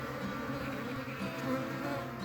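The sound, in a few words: honey bees in a hive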